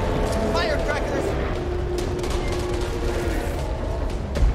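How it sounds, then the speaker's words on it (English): Firecrackers go off in a Back 4 Blood match as a rapid, crackling string of bangs under a dense, loud game mix, continuing steadily for a few seconds. "Firecrackers."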